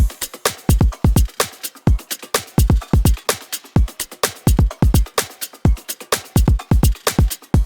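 Full drum group from an electronic track playing alone: punchy kicks with layered clicky hits and bright hats in a tight, repeating groove, loud and close, no voices.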